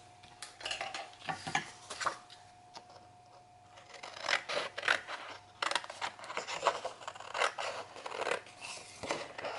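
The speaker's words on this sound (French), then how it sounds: "on va découper au ciseau" Scissors cutting patterned paper for a photo album box, heard close as a long run of crisp snips and scraping rustles in irregular bursts, with a short quieter pause partway through and no speech.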